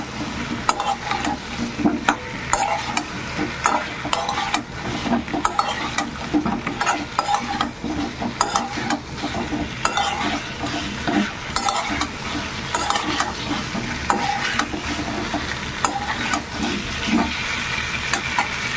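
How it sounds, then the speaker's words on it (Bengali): Green plantain pieces being stir-fried with spices in a pan, loud continuous sizzling broken by frequent scraping strokes of a spatula in a steady rhythm throughout. "এবার কলা খুব ভালো করে মশলার সঙ্গে কষিয়ে নিতে হবে"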